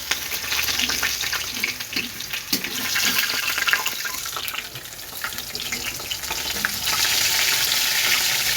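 Rice fries in a pan at home: a continuous bright sizzle and hiss with occasional scraping stirs, growing louder near the end, with no voices.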